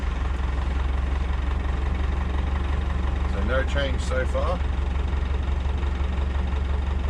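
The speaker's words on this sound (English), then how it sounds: "we're going to get in, start her up today and see what happens" A 6x6 Perentie ambulance's diesel engine idles after starting, its 24 V alternator faulty, giving a steady, loud, low rumble throughout while someone talks briefly over it.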